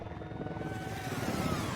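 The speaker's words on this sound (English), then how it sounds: "The helicopter from like the end of it." Helicopter rotor chop from a Splatoon Octo Expansion-style game trailer, a steady low throbbing beat with a faint whine above, moderately loud and building slightly toward the end, with no talk.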